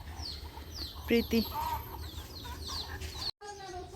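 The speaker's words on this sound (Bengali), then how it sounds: "ওই যে ওখানে বসে মুরগিটা চাল খাওয়াইতেছে" Chickens and chicks being fed rice in a rural Jamalpur yard in the late afternoon, with a few soft clucks and calls over a steady outdoor background, a voice briefly speaking, then a short cut near the end.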